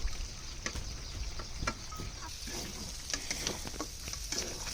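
Duck meat curry sizzling in a pan as it is stirred, a steady frying crackle with scattered scraping clicks from the spoon, close and moderately loud with no talking.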